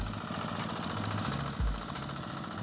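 A Yanmar YZC-L hand tractor engine idles steadily at close range, a continuous low mechanical drone with a brief deeper thump partway through, with no voices.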